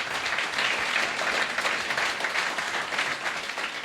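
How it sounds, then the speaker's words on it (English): Round of applause from a conference audience at a fireside chat, a dense, even wash of many hands clapping that holds steady throughout with no talking. "Can you guys give them a round of applause?"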